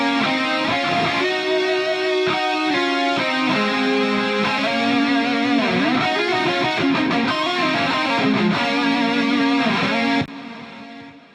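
Distorted electric guitar melody with doubled parts from a full rig capture of a Soldano amp with a Maxon pedal, H3000 micropitch and two delays, loud and sustained with bends and vibrato, ringing out alone before cutting off.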